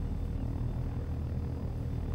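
A helicopter in a flight simulator game lifts off, its engine and rotors a dense, steady low rumble that holds loud and unbroken throughout, with no talk.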